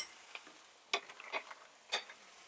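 Onions stirred in melted butter in a pan, with a few scattered scrapes and clicks of the utensil against the pan over a faint sizzle.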